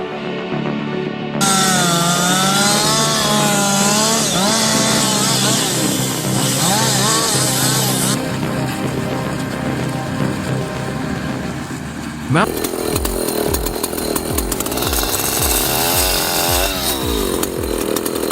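A loud, continuous chainsaw engine roars and revs throughout, with pitch rising and falling as it works, under a voice speaking over it.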